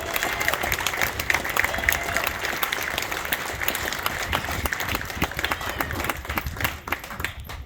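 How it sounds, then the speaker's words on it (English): An audience at an Army recruiting station ceremony in Provo breaks into dense, loud applause after future soldiers are sworn in, the clapping rattling on evenly for several seconds. "Everybody give a round of applause"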